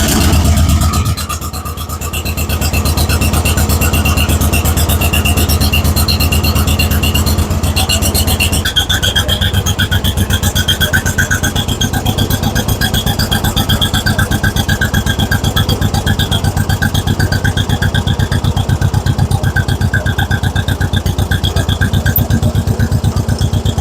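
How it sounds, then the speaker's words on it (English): A 1956 John Deere 420 utility tractor with a front end loader cold starts, then settles into a loud, close, steady rhythmic idle that continues throughout. "1956 John Deere 420 utility with a front end loader."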